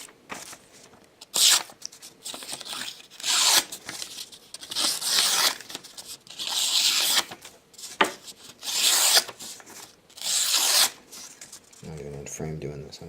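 A sharp knife blade slices through a sheet of Hello Kitty paper in repeated bursts of crisp rasping and tearing, close and fairly loud, separated by brief pauses.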